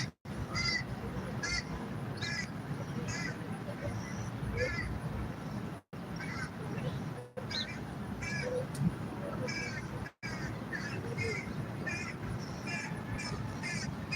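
Crows caw repeatedly outdoors, harsh calls in irregular bursts throughout, over a constant noisy background of wind or traffic.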